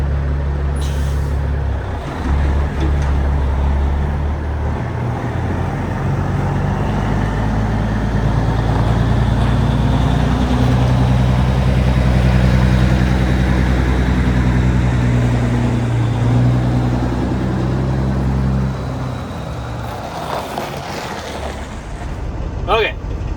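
A truck drives through a snowstorm on a long haul. A deep, steady engine and road rumble holds for about twenty seconds, then eases away, with faint voices under it.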